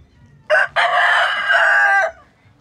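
A rooster belonging to the speaker's father crows once, close and loud, a short opening note followed by a long drawn-out cock-a-doodle-doo over a quiet background.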